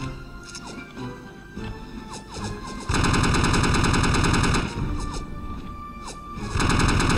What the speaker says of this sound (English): Take the bloody machine gun and kill the crap out of everything moving!